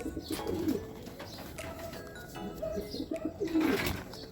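Low, soft racing pigeon coos come in two short bursts, near the start and near the end, over a steady outdoor background hiss.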